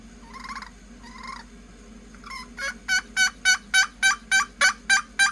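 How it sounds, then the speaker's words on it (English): A Lynch Jet turkey pot call played with the peg that comes with it gives a few soft scratchy notes, then a steady run of about ten crisp, evenly spaced yelps, close and alone. "This is a Lynch Jet turkey call."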